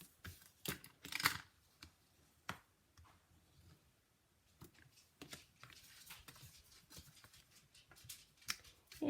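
Paper being cut with scissors while crafting leaves, a handful of sharp snips and rustles scattered over several seconds, fairly quiet and close, with no speech.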